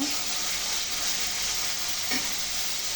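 Spice paste frying in a pan for a fish curry with green tomatoes, a steady close sizzle running throughout with a brief stir around two seconds.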